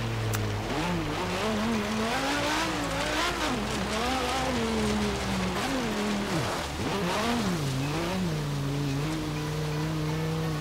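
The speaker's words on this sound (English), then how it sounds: "Now I'm going to damage my nice shiny Lamborghini" A Lamborghini engine in a racing game drone and wail with shifting pitch as the car speeds along, dipping and revving, steady and loud throughout with no talk.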